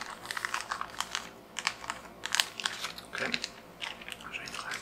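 Bright, crisp crinkling of a thin plastic bag being handled up close, in quick irregular bursts with brief quiet gaps.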